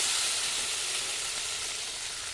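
Spices with cumin powder sizzle and fry steadily in a pan for rui fish curry, a continuous bright hiss at close range with no talking.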